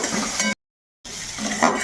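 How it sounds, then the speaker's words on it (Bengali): Potatoes fry in a pan with turmeric and salt, sizzling steadily with stirring scrapes, a half-second gap of silence cutting through the middle. "এটাও আবার একটু ভালো করে আলুটাকে আমি ভেজে নেব"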